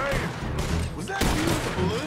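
Repeater rifle gunfire in Red Dead Redemption 2, a dense burst of shots with a sharper report near the middle, heard over busy game sound with some in-game voice chatter.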